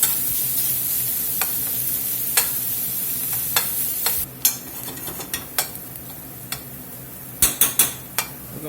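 Jalapeno sizzling in butter in a pot, a steady close frying hiss with occasional sharp clinks and scrapes of a utensil against the pot, growing more frequent near the end.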